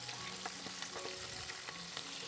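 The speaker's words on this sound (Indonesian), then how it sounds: "Terus lanjut ini aku mau goreng bahan sambelnya." Chili sambal ingredients sizzle steadily in hot oil while frying, with scattered sharp pops and crackles breaking through the dense, close hiss.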